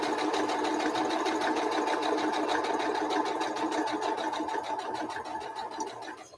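A domestic sewing machine runs steadily while stitching a red, white and blue block-swap quilt, a rapid even needle clatter holding close and loud for several seconds before easing slightly at the end.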